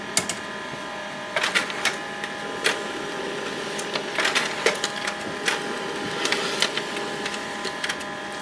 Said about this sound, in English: The printer will print a page with the information.